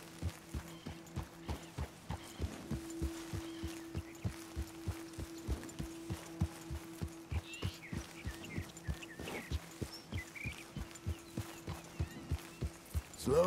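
Steady, rhythmic clip-clop of a horse's hooves walking in Red Dead Redemption 2, close and evenly paced throughout, over a low sustained tone, with no talking.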